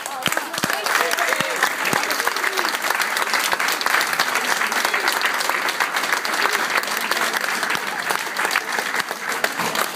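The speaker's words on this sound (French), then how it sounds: "je crois qu'on peut l'applaudir parce que c'est très difficile." Loud, sustained applause from an audience at a French municipal election results announcement: dense, continuous clapping across the whole stretch with a crowd murmuring underneath.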